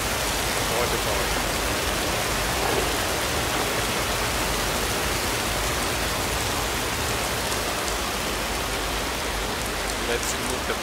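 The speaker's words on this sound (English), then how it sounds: "Underground waterfall. The sound effects are amazing." Underground waterfall in the Somerville video game, a steady broadband rush of falling water that stays constant and fairly loud throughout with no break.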